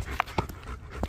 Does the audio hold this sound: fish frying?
no